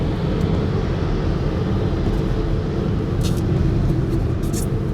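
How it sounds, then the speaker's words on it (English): Tesla Model 3 electric car accelerating at full throttle, a loud steady rumbling roar of road and wind noise building from inside the cabin, with no talking. "I pressed maximum and then it suddenly starts to accelerate"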